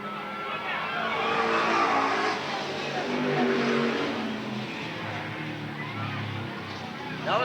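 Race cars roar nose to tail into the first turn at Eugene Speedway in 1992, engines snarling and rising and falling continuously with tire noise, a race announcer's voice talking over the din.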